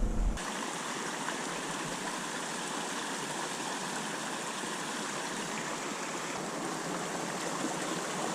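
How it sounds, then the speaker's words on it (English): Mountain creek in southwest Colorado tumbling over a series of little waterfalls, a steady full rushing and splashing flow, close and continuous with no voices. "We're in this beautiful section of the creek now with all these little waterfalls."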